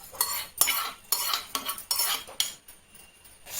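Roasted touch-me-not (nachike mullu) powder spooned into a small mixer jar: a series of sharp metallic scrapes and taps of a spoon against the jar, about eight strokes in an uneven rhythm, close by.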